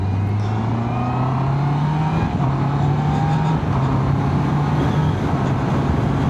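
A 2025 Honda CB650R motorcycle with E-clutch accelerating downhill: a loud, steady, close engine drone rising in pitch, a brief dip at a gear change, then climbing again, with wind rush and no talk.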